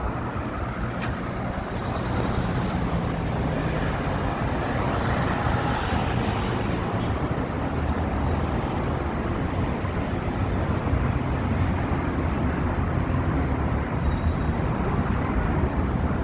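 Steady morning traffic on a busy multi-lane public road through an industrial zone, a continuous broadband roar of cars, trucks and buses passing at moderate distance with no voices.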